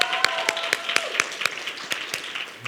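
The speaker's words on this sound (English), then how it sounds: "Give yourselves a round of applause." An audience at a kids' film awards ceremony applauds with rhythmic, evenly spaced claps ringing out over a hall-like background, fairly close and moderately loud.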